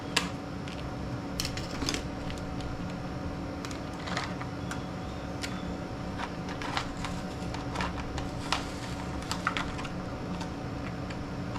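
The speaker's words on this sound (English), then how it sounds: "it actually tells me to use scissors right there" Scissors snip sharply several times at close range while a primer bulb repair kit is cut apart during work on a vintage thrift-store leaf blower, giving brief crisp clicks over a quiet background hum.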